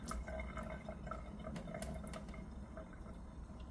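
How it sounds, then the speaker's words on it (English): Water being strained off canned ackee in a kitchen, a steady trickling and dripping pour that runs continuously at close range, with no talking. "strain the water off the ackee"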